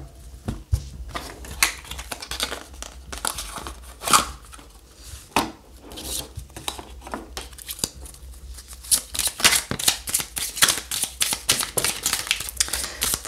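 Spark of Love oracle cards being shuffled and drawn by hand, a run of quick papery flicks and snaps, sparse at first and then denser and louder toward the end, close up with no talking.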